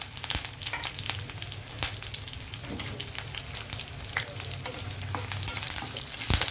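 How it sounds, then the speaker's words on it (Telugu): Lentils, garlic, cumin, mustard seeds, curry leaves and dried chillies fry in oil for gongura chutney, a dense close sizzle with constant crackling and scraping stirring throughout. "ఈ పప్పులు వెల్లుల్లి కొంచెం వేగాయి కదండి ఇప్పుడు జీలకర్ర ఆవాలు అలాగే కరివేపాకు అలాగే ఎండుమిర్చి"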